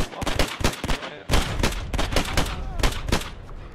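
Machine gun fire in the World War II shooter Hell Let Loose: loud, dense bursts of rapid automatic shots that hammer on almost without a break for several seconds, with faint voices underneath.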